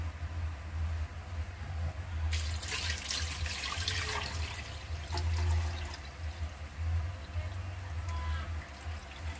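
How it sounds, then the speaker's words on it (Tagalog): Water poured from a pitcher into a cooking pot holding two pieces of chicken and a heart for chicken mami, a steady splashing pour that starts a couple of seconds in and carries on over a low kitchen hum. "Lagyan natin ng water."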